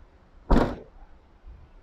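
The rear boot door of a second-generation Honda CR-V swings open with a single close, sharp latch clunk and rush, followed by a faint low thud a second later.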